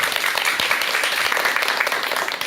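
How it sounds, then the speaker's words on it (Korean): A lecture audience gives a round of applause welcoming the speaker, a continuous, bright crackle of many hands clapping at close range that holds steady for the whole stretch. "박수와 함께 박사님의 강의 청해 듣도록 하겠습니다"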